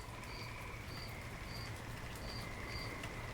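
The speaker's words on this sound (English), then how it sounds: "So I got some frogs and some cricket sounds." Cricket chirps repeat in short, regular bursts over a steady hiss of rain, faint and continuous with no voices.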